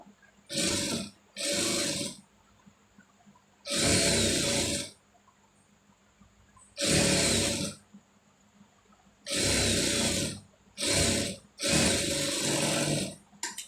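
A sewing machine stitches a folded sleeve hem in repeated loud bursts of steady whirring, each lasting about one to two seconds and separated by short pauses.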